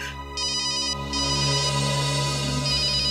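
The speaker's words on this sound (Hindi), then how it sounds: "किसका फोन है?" A telephone ringtone plays loudly and continuously in a police crime-drama scene, a steady electronic ring with no voices over it.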